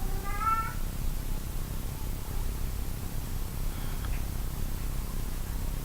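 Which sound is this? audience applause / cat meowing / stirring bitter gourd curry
cat meowing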